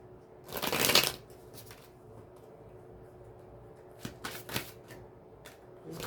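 A deck of Osho Zen and tarot cards is shuffled, a loud riffle near the start, then a few quieter flicks and snaps a few seconds later, close and with no talking.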